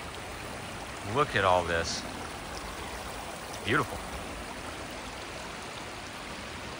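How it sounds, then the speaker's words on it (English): An Alabama creek flows with a constant broad rushing murmur near the coal swamps, while a voice speaks briefly twice over the water. "Just look at how nice this creek is, though."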